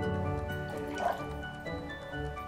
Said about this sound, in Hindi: और अब एक बर्तन में पानी लेंगे, उसमें मैं लगभग 3 ढक्कन इसमें व्हाइट विनेगर ऐड कर दूंगी।